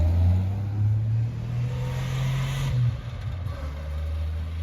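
A revived 1967 Plymouth Barracuda that was once an abandoned project drives along with a steady, loud, low engine rumble, which shifts slightly partway through.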